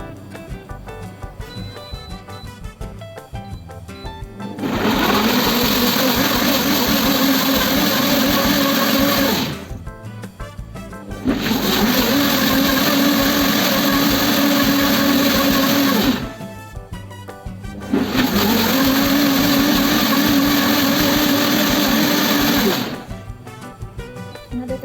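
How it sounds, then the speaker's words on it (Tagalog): A blender whirs through aloe vera being blended into hair oil in three steady loud bursts of about five seconds each, separated by short pauses with no talking. "1 minute lang mag-blend."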